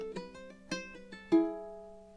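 Low G ukulele picking the opening of Purcell's Rondeau from Abdelazer, a few distinct plucked notes and chords ringing out alone, with a stronger final strum left to sustain and fade.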